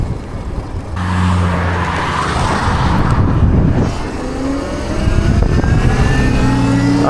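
An electric bike fitted with a King Goat controller rides past during a range test, a motor whine rising and shifting in pitch over steady road and wind noise, with no voices.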